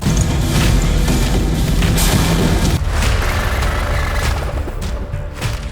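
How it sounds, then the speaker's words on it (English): Russian missile strikes and airstrikes on Kyiv and other Ukrainian cities in news footage: a continuous, loud wall of deep booms and crackling blasts that rumbles on without a break. "The Russian missiles and airstrikes hit Ukraine's capital Kyiv and more than a dozen other cities minutes after the Russian leader Vladimir Pu"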